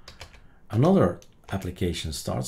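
Computer keys tap in short quick clicks as a short word is typed, mixed with someone speaking over them.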